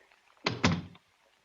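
A door shut as a sound effect in an old-time radio drama: one solid wooden thunk with a quick second knock, close and fairly loud, then near silence.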